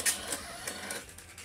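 A Mecaf dot matrix printer prints a page, giving a short burst of quiet, rapid mechanical buzzing and rattling close by.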